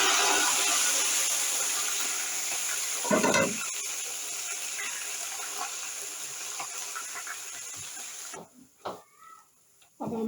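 Garlic and cumin tempering for sarson ka saag (mustard greens) hitting hot oil, a steady broadband sizzle held close and loud for most of the span, then cutting out near the end with a few faint knocks.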